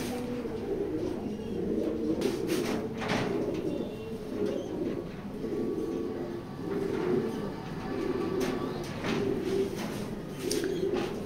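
Racing pigeons coo steadily in a loft, a continuous low murmuring chorus from several birds close by, with a few faint knocks and rattles scattered through.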